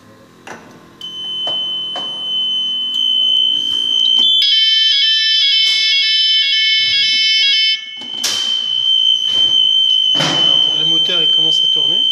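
A general fire alarm triggered on a Finsecur fire alarm panel: a loud, steady electronic sounder with stacked piercing tones holding for several seconds, preceded by clicks and beeps and joined by mechanical knocks and someone talking nearby.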